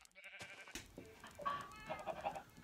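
A sheep in the Minecraft game gives a couple of short bleats, fairly close, over quiet background game ambience with no talk.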